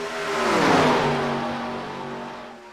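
Race cars in the iRacing video game at Talladega drone past in a close pack, a loud engine roar rising and then falling with a Doppler pitch sweep.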